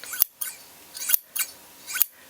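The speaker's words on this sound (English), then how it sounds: "my Ginger dressmaker shears, and they just make me feel fancy. They cut beautifully and they make that noise." Ginger dressmaker shears snip three times in a steady rhythm, each a crisp, close metallic swish-and-click of the blades closing, with quiet pauses between.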